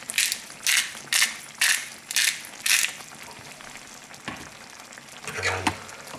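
Salt and black pepper ground with a hand grinder over liver and onion gravy, about six even ratcheting bursts of crunchy grinding, close and fairly loud, followed by quieter stirring and faint sizzling.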